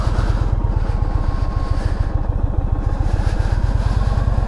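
A 2022 Indian Chief motorcycle engine decelerates while riding, a loud, close, low, steady rumble of rapid exhaust pulses that continues unbroken throughout the clip, with no talking.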